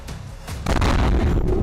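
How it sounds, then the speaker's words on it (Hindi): A blast goes off near the Red Fort in Delhi, with a dull thud followed by a loud, sustained rumbling roar that fills the rest of the moment. "ये वो धमाका था जिससे दिल्ली बिल्कुल अनजान थी"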